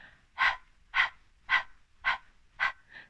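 A voice imitates panting breath while running, five evenly spaced breathy huffs followed by a softer sixth, each a short airy exhale, with no other sound.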